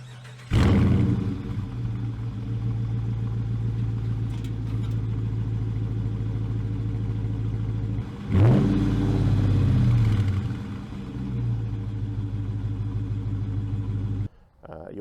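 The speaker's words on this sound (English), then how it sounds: "we've got these really big exhaust pipes, make a lot of noise. They let that Hemi V8 be heard." A Dodge Charger R/T's Hemi V8 rumbles through big exhaust pipes, a loud steady idle that surges into a revving burst partway through, then settles before cutting off near the end.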